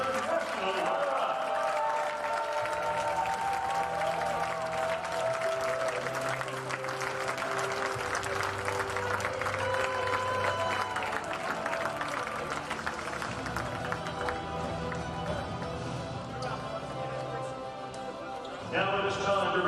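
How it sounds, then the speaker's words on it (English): A crowd applauds and cheers for the Benedictine Eagles, national runner-up at the 2021 NCAA Division III men's volleyball championship, with steady, dense clapping filling the gym alongside a loud mix of voices and music. "let's have a round of applause for the Benedictine Eagles, your national runner-up."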